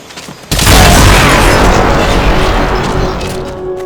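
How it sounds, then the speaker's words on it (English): A sudden loud explosion in the video game Metal Gear Solid Peace Walker breaks in after a short quiet moment, then rolls on as a long, dense, rumbling blast that slowly fades. "An explosion?"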